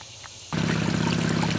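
After a short quiet hiss, water from a 1.5 horsepower, 50 gallon-per-minute pump suddenly gushes through a Gold Hog Razorback gold sluice, a loud, steady rushing splash held up close.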